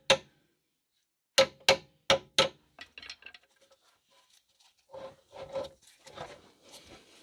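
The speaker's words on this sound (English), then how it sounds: "I'm just going to give it a gentle tap with a soft aluminium mallet" Soft aluminium mallet tapping a rear gearbox mount on a Ford Focus or C-Max: one sharp knock, then four quick knocks in a row, followed by lighter scraping and shuffling handling noises close by.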